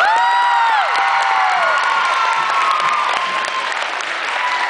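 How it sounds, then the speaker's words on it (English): A middle school assembly audience applauds steadily, dense clapping mixed with cheers and children's shouts and whoops, loud and close throughout. "Give him a round of applause."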